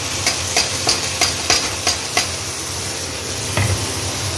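Ground tomato and green chilli hitting frying onions in a pan, a steady close sizzle with a series of light, regular taps from stirring, then fainter frying.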